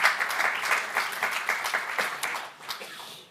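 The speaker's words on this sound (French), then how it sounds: "on peut effectivement les applaudir" Audience applause for a panel at a French conference session on deploying heat pumps in collective housing, a short burst of many hands clapping that fades toward the end.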